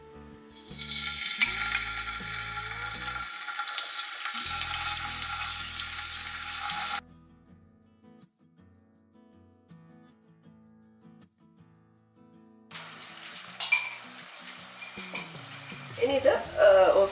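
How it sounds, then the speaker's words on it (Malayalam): Prawns frying in ghee in a pan, a bright crackling sizzle that cuts out to near silence for several seconds and then resumes with clinks and stirring noises, close up and without voices. "ഇത് ഫ്രൈ ചെയ്യാൻ വേണ്ടി നമ്മൾ ഗീ ആണ് ഉപയോഗിക്കുന്നത്. നെയ്യ് ആവശ്യത്തിന് ഒഴിച്ചു കൊടുക്കാം. ഇനി നമ്മൾ പ്രോൺസ് ഓരോന്നായിട്ട് ഇട്ട് കൊടുക്കുക."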